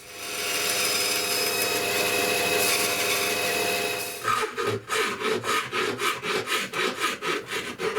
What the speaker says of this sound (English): Once I've cut it roughly to shape, I'll then file it more closely until it's a really tight fit.